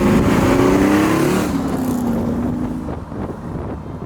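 A 1967 Chevrolet Camaro SS with an LS3 engine, a convertible driven with the top down, its engine note gliding up and down as it cruises, with wind rush close to the microphone.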